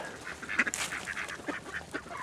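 Indian Runner ducks and mallards quack in a string of short nasal calls at moderate distance, fairly faint, with a few louder honks overlapping in quick succession.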